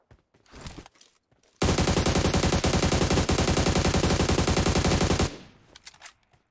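Sustained automatic gunfire in the mobile battle royale game PUBG Mobile on the Sanhok map, a dense loud rapid burst lasting several seconds, preceded and followed by quieter game sounds.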